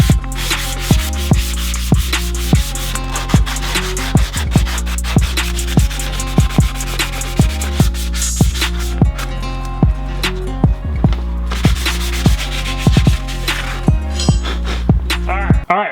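Hand sanding over a Plasti-Dip touch-up on a car body after off-roading, a loud, close, repeated rhythmic rubbing that rasps back and forth in steady strokes.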